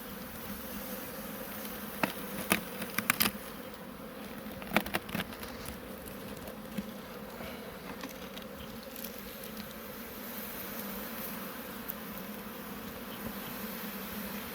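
A dense, continuous buzz of many honeybees in a hive close by, with occasional light taps and clicks scattered through the drone.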